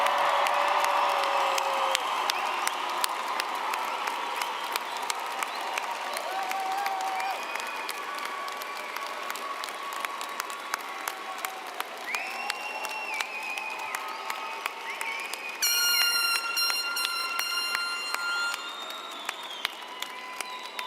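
A large commencement crowd at Augustana College's 2024 graduation gives sustained, loud applause for the graduates, with cheering and whoops mixed in and a few sharp whistles rising near the end.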